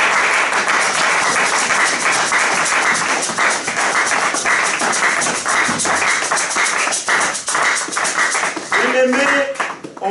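Church congregation cheering and clapping in praise of the Lord, a loud sustained wash of applause and shouting that continues throughout, with a few voices rising near the end.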